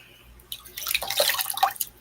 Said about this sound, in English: Ooh, dripping.